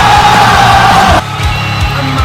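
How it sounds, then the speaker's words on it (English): Wrestling arena crowd roaring for Cody Rhodes, a loud, sustained wall of yelling and cheering that drops off sharply to a quieter murmur partway through. "how much the crowd are really supportive of Cody Rhodes, how loud that was absolutely insane"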